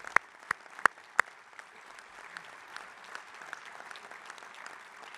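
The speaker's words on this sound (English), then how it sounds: "Give those guys a round of applause." Audience applause at a union national rap session honoring the Rank and File Committee, steady moderate clapping from a room of people with a few sharp close claps at the start, no voices.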